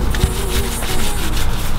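A bendable wheel brush rubs and scrubs behind the spokes of a 2019 Toyota RAV4 XSE Hybrid's wheel, a steady close bristly scraping that runs the whole moment without talk.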